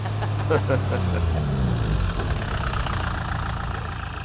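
A tractor engine idles with a low, steady chug nearby, holding at even loudness under a brief voice.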